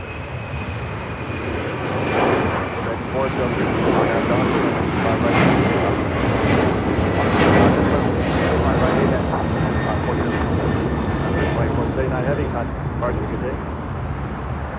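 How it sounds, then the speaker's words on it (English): A LATAM Airlines Boeing 767-300ER takes off from LAX bound for Lima, its engines a loud, sustained roar that swells and holds steady throughout, with a faint high whine running through it. "2479 taking off to Lima, Peru on a 767-300ER"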